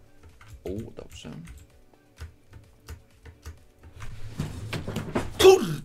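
Space bar tapped repeatedly on a computer keyboard, a run of sharp, close clicks in an uneven rhythm, with a voice briefly speaking near the start and game sounds and noise building toward the end.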